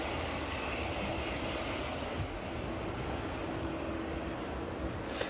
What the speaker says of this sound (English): that 777 just in the background, starting its taxi now out towards runway 27.